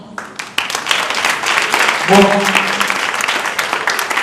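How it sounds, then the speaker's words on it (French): Audience applause at a spelling championship, a dense wash of clapping that runs throughout, with a brief spoken word heard over it. "J'aimerais qu'on s'énergise davantage avec vos applaudissements."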